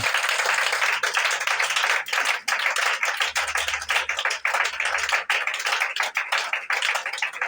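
A church congregation applauds Jesus Christ with sustained, dense clapping from many hands, loud and continuous with brief dips, and a faint hum underneath.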